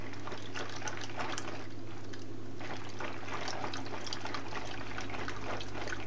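Water is poured steadily into flour for hand-mixed yeast dough, a continuous close trickling and splashing that runs for several seconds without talk.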